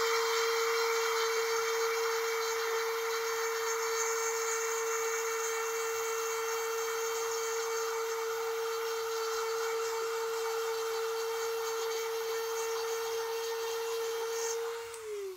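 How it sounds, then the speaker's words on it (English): Power tool gouging out wood while building a two-piece bow, a continuous high steady whine that holds evenly at close range and winds down at the very end. "we're just really gouging that out so that it sticks good"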